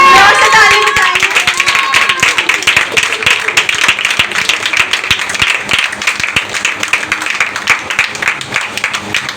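A church congregation at a Friday revival meeting claps loudly and continuously, a dense, steady wash of many hands filling the hall without pause.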